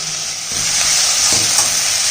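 Vegetables, including chayote, sizzle and hiss steadily in a hot pan, with occasional soft scraping as they are stirred.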